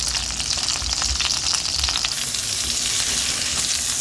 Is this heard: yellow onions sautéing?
yes